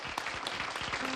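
A television studio audience on a country music variety show claps, producing a brief burst of dense hand-clap applause with no talk.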